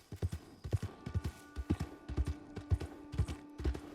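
A horse's hooves clip-clop steadily at a walking pace as it is ridden in a video game, with a quiet background hum and no talking.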